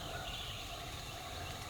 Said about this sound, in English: I'm surprised I could hear that bird gobble